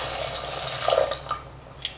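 Water poured into a pressure cooker while making quail biryani, a steady splashing pour that runs close and fairly loud, then tapers off with a few trickles and drips.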